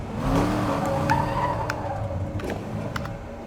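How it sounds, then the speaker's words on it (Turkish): A Bugatti supercar engine in Need for Speed Most Wanted (2012) roars steadily with some tyre squeal, loud and close, with a few brief higher bursts as it revs. "Bugatti sesi dinleyelim"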